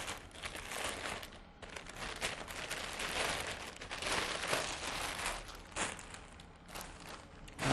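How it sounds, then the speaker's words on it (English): A guitar pedal being unwrapped from its packaging, with continuous close crinkling and rustling of wrapping material and a few sharper tearing bursts, no talk. "Alright, let's unwrap this pedal."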